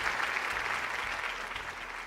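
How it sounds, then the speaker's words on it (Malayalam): A studio audience on a Malayalam TV game show applauds, sustained clapping at an even level throughout, with no voices over it. "നല്ലൊരു കൈയടി കൊടുത്തേ"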